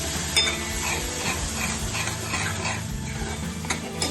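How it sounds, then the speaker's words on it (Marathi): Spinach puree for palak matar goes into a hot pan, with soft sizzling and scraping stirs against the metal, close and steady, without any talking. "आता आपण पालकची जी प्युरी करून घेतली आहे ती आपण यामध्ये टाकूया"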